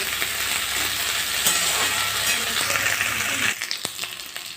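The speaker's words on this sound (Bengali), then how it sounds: "সবজিগুলো আমরা এখন ভালো করে ভেজে নেব" Vegetables fry in a pan for a home-cooked veg moong dal, a steady loud sizzle and crackle running throughout, with a few sharper clicks of stirring near the end.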